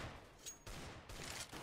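Bursts of gunfire in the Roblox shooter Counter Blox, a loud sharp volley near the start followed by two more broadband bursts of shots, with no voices.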